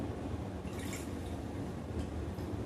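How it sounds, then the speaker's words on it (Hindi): Water poured from a lota over a Shiva idol during a puja, a steady close splashing and trickling flow running throughout without pause, no speech. "अब हम भोलेनाथ जी के ऊपर 1 लोटा जल समर्पित करेंगे"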